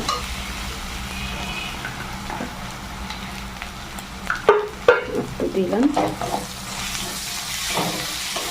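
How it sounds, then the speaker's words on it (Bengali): Garlic and green chilies fry in a pan for a chicken dish, giving a steady sizzle with spoon-stirring scrapes. A voice speaks briefly in the middle. "রসুন তো এবার এগুলো আবার একটু ভাজা ভাজা হোক"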